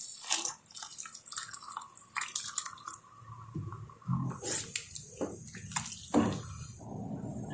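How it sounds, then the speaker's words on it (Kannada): Hot water splashes and trickles into rice in a kadai for vegetable biryani, an uneven run of pouring and dripping sounds with some kitchen clatter, close by. "ಇವಾಗ ಇದಕ್ಕೆ ಬಿಸಿನೀರು ಹಾಕ್ತಾ ಇದ್ದೀನಿ, ನಾನು ತಣ್ಣೀರು ಹಾಕ್ತಾ ಇಲ್ಲ ನೋಡಿ"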